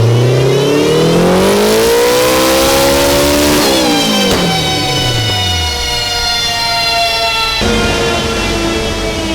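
A turbocharged K20 engine in a Toyota MR2 screams on a dyno, sweeping up through the revs, dropping back, then climbing again to a high, loud, sustained wail near the limiter.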